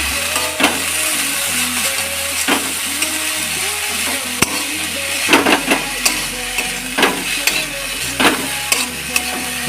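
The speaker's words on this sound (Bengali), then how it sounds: "আমার মোটামুটি প্রায় আলুটা ভাজা হয়ে গেছে" Potatoes fry in a pan for a Maggi noodle recipe, a steady sizzle broken by repeated scraping stirs of the spatula at an irregular rhythm, close and fairly loud with no talking.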